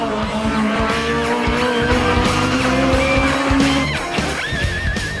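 Toyota GT86 race car in a mountain hill climb final, its engine wailing loudly and continuously through rising and falling revs, with tire squeal and rapid gear changes.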